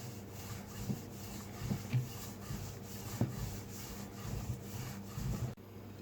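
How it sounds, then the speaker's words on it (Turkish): A rolling pin rolls out sweet chocolate çörek dough on a lightly floured table, giving a steady, soft wooden rubbing with periodic heavier pushes, close and continuous, with no talking. "merdane yardımıyla orta kalınlıkta açıyoruz"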